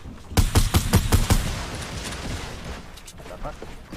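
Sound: gunfire from a video game

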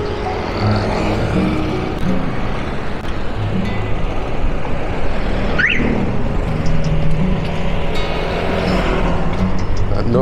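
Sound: baht bus (songthaew) passing in Jomtien, Thailand

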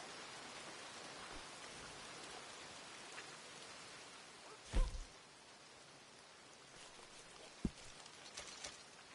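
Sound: rain in the video game Red Dead Online

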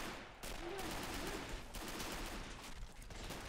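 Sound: Volkssturm squad firing rifles in a WWII video game

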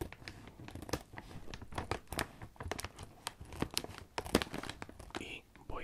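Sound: cutting open a snack bag with scissors

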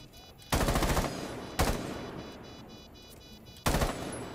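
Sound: gunfire in a video game

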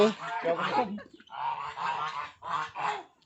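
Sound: Peking ducks calling on a mixed duck farm

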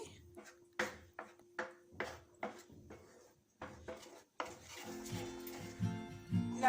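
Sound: stirring coconut milk burfi mixture in a pan

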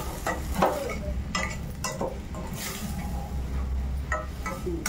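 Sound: stirring spices into green tomato curry in a pan

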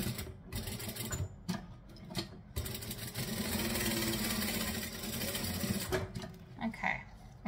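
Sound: sewing machine stitching along a line

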